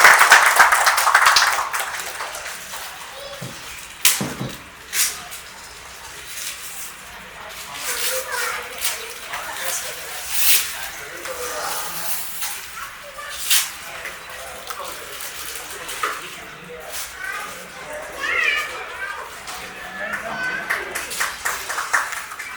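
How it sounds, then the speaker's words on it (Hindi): An audience at a celebration of successful students claps to welcome an honoree, with scattered applause and a voice speaking over the crowd noise in a large hall. "बहुत जोरदार तालियों के साथ स्वागत"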